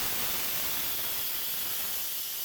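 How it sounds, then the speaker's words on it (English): Steam hisses out in a steady, broadband rush from a pressure cooker during a normal release while cooking pasta e fagioli, continuous and fairly close with no talk. "and all the steam is going to come out."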